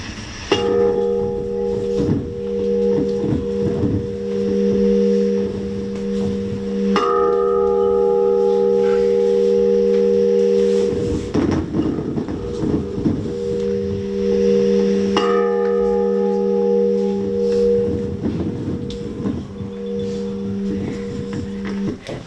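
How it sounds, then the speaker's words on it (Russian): A 310 kg peace bell rings out in long, sustained tones with strong steady overtones, struck repeatedly so each new toll swells over the lingering hum of the last, loud and resonant throughout. "в этот день в течение минуты раздается звон колокола мира"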